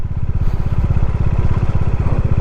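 Motorcycle engine running steadily while descending a steep hill on the Gudisa hill ride, a loud close low throb with fast regular firing pulses and no pauses.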